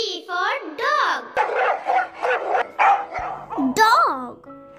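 A dog barks in a quick run of loud, close barks, with a voice speaking before and after.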